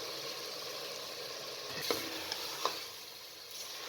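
Potato, cauliflower and meat curry stirred in oil in a pot, giving a steady soft sizzle with a few light scraping clicks of the spoon, close and alone without talk.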